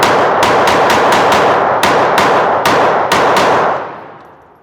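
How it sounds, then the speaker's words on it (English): A Glock 25 Gen 3 .380 pistol fires a rapid magazine dump at a range: about ten sharp, loud shots in quick succession, ringing out and fading after the last. "I'm gonna give y'all a mag dump out of the 380 real quick."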